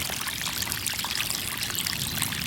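Water pouring from a repaired water pump, a steady close rush and trickle that fills the whole stretch without pause and with no talk over it.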